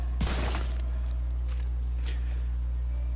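Weapon fire in the video game The Division 2: one sharp, close shot followed by a few fainter cracking reports over a constant low electrical hum.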